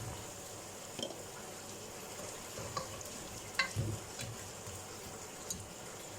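Chicken pieces frying in a pan with frozen ginger garlic paste for restaurant-style biryani, a faint steady sizzle with a few soft stirring clinks and scrapes.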